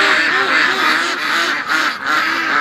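A flock of farm ducks quacking close by in the morning, a continuous loud chorus of overlapping nasal quacks.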